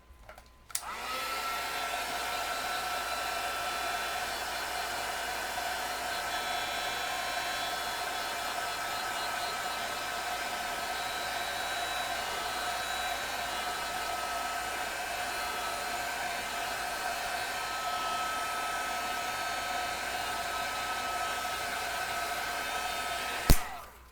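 A hair dryer blows steadily on wet watercolor paper, a close, constant whooshing roar with a faint motor whine, switched on at the start and running alone for over twenty seconds before cutting off.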